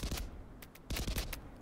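Rapid bursts of assault-rifle gunfire in a video game, several sharp cracks in quick succession, loud and close with brief gaps between volleys.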